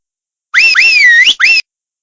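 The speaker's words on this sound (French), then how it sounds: "à la suite d'un sifflement strident" A loud, shrill two-tone whistle rising and sliding in pitch, one long sweeping call followed by a short second blast, with no other sound around it.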